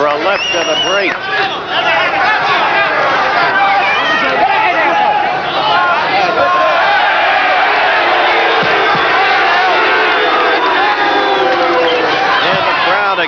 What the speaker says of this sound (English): And the crowd expressing disapproval of Vito's actions.